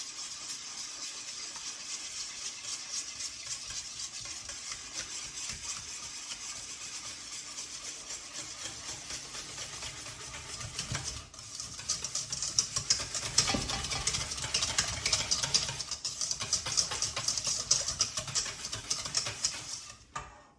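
Muffin batter with vanilla being stirred in a bowl, a continuous soft scraping and rubbing that grows louder and busier partway through, close and steady without any voice.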